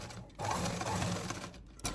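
A sewing machine runs steadily while stitching the folded hem of a churidar pant, a close continuous mechanical whirr lasting under two seconds with a brief pause at the start and end.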